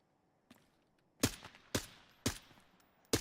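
An enemy player firing in a video game: four or five crisp, fairly quiet shots spaced about half a second apart, each with a short decaying tail, heard alone.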